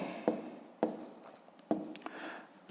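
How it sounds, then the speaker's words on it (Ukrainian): A pen writes out a math expression on paper, giving several short scratchy strokes and taps, close and fairly quiet. "Ну що ж, записуємо то."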